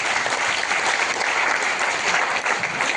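Dense, steady applause from a seated audience at a Delhi training program, a continuous, even crackle of many hands clapping at once with no pauses.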